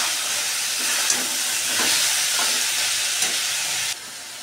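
Meat and biryani masala sautéing in a pan for khichra, a loud steady hiss and sizzle with a few soft stirring scrapes, cutting off sharply near the end with no talk.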